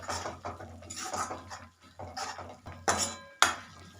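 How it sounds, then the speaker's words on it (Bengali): Spices for a dried-pea ghugni being stirred and sautéed in a pan: repeated scraping and clinking of a spoon against metal, in uneven bursts with a few sharper knocks, close and fairly loud, with no voices. "এবার সব কিছুকে ভালো মতো আবারও কষিয়ে নিচ্ছি"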